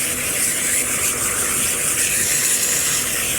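A steamer tip is worked closely over car interior vinyl, plastic and leather, giving a steady, loud, close hiss of escaping steam with no break throughout.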